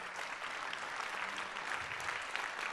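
Steady, dense applause from a conference audience fills the room at an unconference session, continuous clapping with no speech over it, holding an even level throughout.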